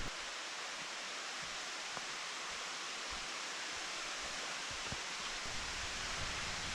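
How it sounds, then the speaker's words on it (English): Waterfall on the Panthertown Valley trail, a broad steady roar of rushing water, constant and enveloping, with faint occasional rustles or footsteps nearby. "So follow the sound of the water."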